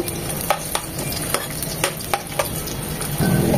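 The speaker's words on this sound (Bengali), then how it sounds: "তেলটা গরম হয়ে এসেছে, দিয়ে দিচ্ছি 1 চামচ পেঁয়াজ কুচি।" Chopped onion hitting hot oil for a Bengali pabda fish curry with beans and potatoes, a steady close sizzle broken by several sharp scraping stirs of a spatula in the pan.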